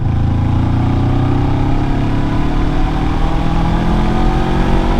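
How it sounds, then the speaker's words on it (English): A 2022 Honda CB500X motorcycle engine pulls at full throttle from around 3000 RPM, a loud, close, continuous drone with its pitch climbing steadily as it accelerates. "now I'm doing 3000 RPM, something about that, and just I'm gonna floor it"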